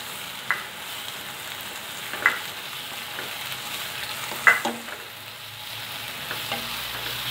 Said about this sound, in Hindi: दो मिनट इसको भूनेंगे।